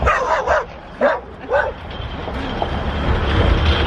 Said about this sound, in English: Got dog interactions even on the bridge.